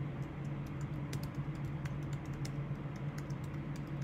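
Someone types a heading on a computer keyboard, the keys clicking in a quick, uneven stream close to the microphone, over a steady humming blower in the room.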